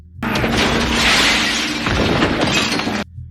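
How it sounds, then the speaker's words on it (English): Two men crash through a pane of glass in a TV drama fight scene, a loud sustained shattering and smashing burst lasting about three seconds, with no talking. "The 2 men struggle, going through a pane of glass."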